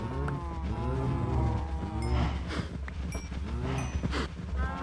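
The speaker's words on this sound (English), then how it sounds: "Come on, cows." Cows in the video game Minecraft moo repeatedly, several drawn-out overlapping lows in quick succession, loud and close with no talking.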